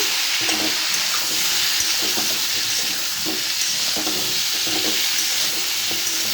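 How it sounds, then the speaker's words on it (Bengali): Cauliflower and potato with turmeric and salt frying in a wok, giving a loud continuous sizzle with repeated scraping stirs throughout. "কড়ার মধ্যে ফুলকপি আলু একটু হলুদ নুন দিয়ে আমি ভেজে নিচ্ছি।"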